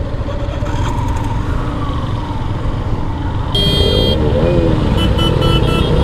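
In a traffic jam on a hill road, with the listener on a motorbike, engines rumble steadily, then a loud, close horn blast sounds midway, followed by several short honks.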